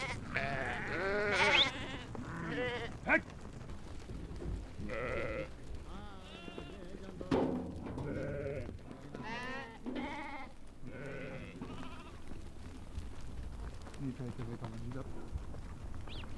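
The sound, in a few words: sheep bleating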